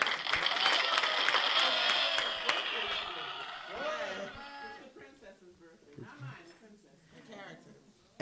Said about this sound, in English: round of applause for Princess Sola